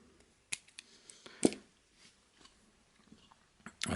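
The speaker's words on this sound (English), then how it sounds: "So I'm just going to cut a section of line here." Scissors snip through a section of carp fishing line, with a few sharp, isolated clicks and cuts standing out against near silence, plus small handling noises in between.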